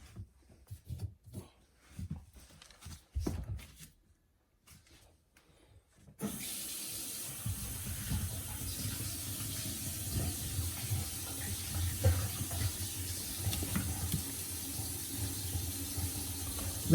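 A newly installed Glacier Bay Oswell bathroom faucet runs water into the sink, a steady close rushing splash that starts after a few seconds of quiet handling clatter and continues to the end.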